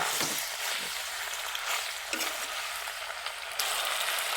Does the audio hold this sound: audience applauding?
no